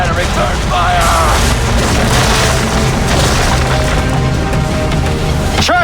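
Heavy naval cannon fire booms across a sea battle in Assassin's Creed 3, a dense roll of blasts and splintering wood filling the whole span, with voices shouting over the barrage.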